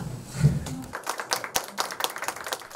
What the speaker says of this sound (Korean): 학생들이 보내는 공감의 박수